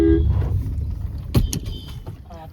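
A car pulls away and drives off along a village lane during rainy weather, its engine rumbling steadily at moderate loudness, with brief mechanical clicks and knocks partway through and fainter voices in the background.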